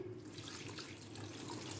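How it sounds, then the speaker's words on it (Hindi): Water pours steadily into a pressure cooker holding chickpeas, chicken and other kabab ingredients, a continuous close splashing rush with no talk. "ये सारे इंग्रेडिएंट्स आपने एक साथ डाल लेने हैं प्रेशर कुकर में और इसमें पानी डालें।"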